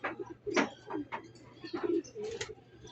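Racing pigeons coo softly at the loft on arrival after a 7:00 am Sariaya release, several low repeated coos and rustles close by, with a faint steady hum underneath.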